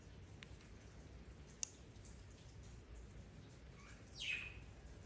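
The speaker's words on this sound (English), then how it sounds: "I'm just trying to let the birds calm down a little bit." Pet birds in a home give a few faint, scattered chirps over a quiet background, with one clearer chirp near the end. No speech.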